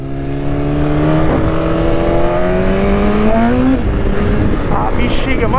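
Honda CB 600F and Kawasaki Ninja 400 motorcycles accelerating hard, the engine note rising steadily in pitch through the gears, loud and close, with people talking over it.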